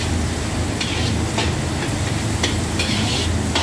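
Garlic and onion sautéing in a hot pan, a steady dense sizzle with occasional scraping stirs of a utensil, close and continuous throughout.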